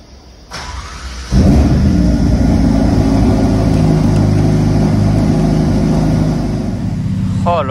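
A Ferrari SF90 engine fires up and settles into a loud, steady race-mode roar, with a brief lighter rumble before the full startup surge; it stays close and continuous throughout with no talking.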